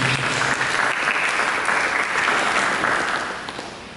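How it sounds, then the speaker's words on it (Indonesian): A church congregation applauds together during a sermon, dense steady clapping filling the room, loud throughout and tapering slightly at the end. "Mari kita berikan tepuk tangan bagi Yesus."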